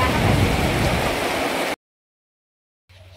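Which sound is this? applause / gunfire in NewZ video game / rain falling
rain falling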